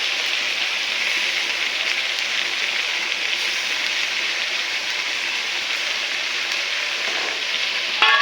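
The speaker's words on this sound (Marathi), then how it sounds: "हे सगळ्या भाज्या येत्या बघा आता मी टाकते मटार" Steady, even sizzling of mixed vegetables and peas frying in oil and butter inside a pressure cooker for pav bhaji, a continuous close hiss with no talking.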